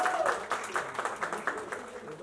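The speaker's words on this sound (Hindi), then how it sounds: "एक बार सर के लिए जोरदार तालियां." A crowd claps for a guest at a launch party for a Gujarati film song, a fairly faint patter of applause mixed with murmuring voices and background chatter.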